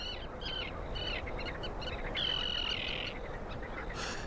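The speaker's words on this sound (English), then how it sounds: "the sound of prayer is broken by the calls of thousands of birds" Migratory birds at Skadar Lake in Montenegro call over a constant broad wash of background noise, with scattered chirps and one longer whistled call rising above it at moderate distance.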